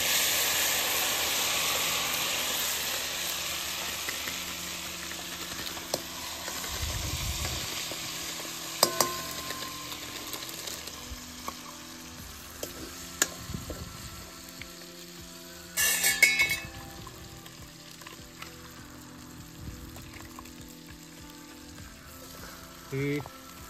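Onion and store-bought spice paste fry in hot oil on a wood-fired village stove, giving a soft, steady sizzle with occasional stirring scrapes and clinks, and a brief louder hiss partway through.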